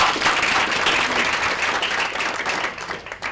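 Audience applause at a conference on endangered coastal heritage sites, a dense, steady wash of many hands clapping at close range that thins slightly toward the end.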